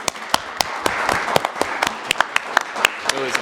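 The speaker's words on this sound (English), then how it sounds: "big round of applause for him" Scattered applause at a council meeting, a small crowd clapping unevenly with distinct sharp claps for a few seconds.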